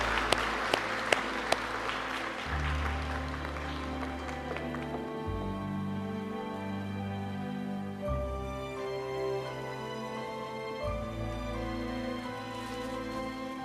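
Congregation applauding at a Sunday church service during a pastor's installation ceremony, a sustained patter of clapping filling the hall under organ or music tones, with a few sharp isolated claps at the start.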